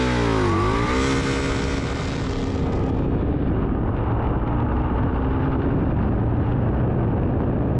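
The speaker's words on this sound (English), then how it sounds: "this V-twin engine is lopey. It makes just the right amount of sounds" An Indian 101 Scout motorcycle's V-twin engine accelerates hard up close, a loud, steady roar whose pitch sweeps and climbs before settling into a sustained drone.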